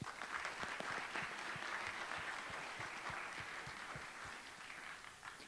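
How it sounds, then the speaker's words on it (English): Audience applause fills a show's opening, a dense, steady wash of many hands clapping together, holding evenly throughout and easing slightly toward the end, with no voices over it. "So let's give everyone a round of applause."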